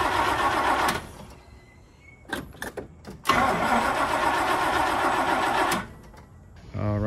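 An idling car engine runs steadily, cuts out, then the starter cranks in several short bursts until a carbureted engine catches and settles into a steady mid-pitched idle before dropping off near the end.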